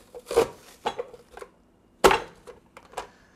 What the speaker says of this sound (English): I also recently bought this Mueller chopper dicer set and putting it to the test for the first time.